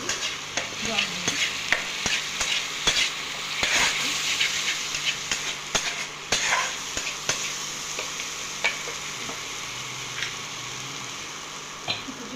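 Masala fries in oil in a wok while being stirred, with repeated scraping strokes and clinks over a steady sizzle, close by and without talk.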